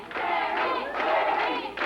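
A wrestling arena crowd at a 1994 USWA show chants a name in rhythmic, swelling bursts that rise and fall over the match, loud and close with a commentator speaking over it.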